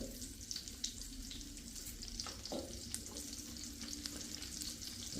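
Garlic sizzles in olive oil for spaghetti, a continuous close crackle with light stirring and scraping through the short stretch.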